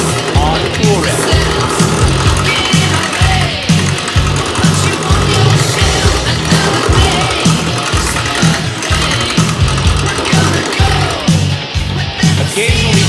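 A wood lathe rough-turns a block with a gouge resting on the tool rest, giving a loud continuous rumble with rhythmic chattering cuts, close up, with someone talking over it.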